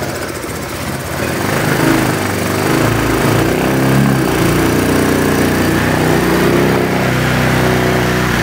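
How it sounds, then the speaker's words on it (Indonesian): A Honda Vario Techno 125 scooter engine runs steadily after being restarted, having stalled with the injection light blinking 52 times, giving a continuous close, loud, rough idle with a slight buzzing pulse and no talk. "motor sudah kembali hidup dan menyala"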